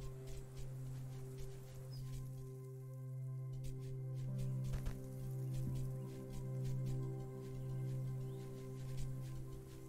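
Rain in the video game Greensong, a soft steady patter with scattered drips over a low ambient music drone and an occasional bird call, faint and continuous.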